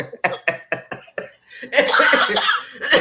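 A rapid series of harsh coughs, about six in a row, followed by a longer raspy, breathy burst of coughing close to the listener.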